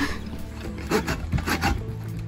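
A hand saw cutting wood during construction of a shed's foundation frame, several rough rasping strokes in an uneven rhythm, close and moderately loud.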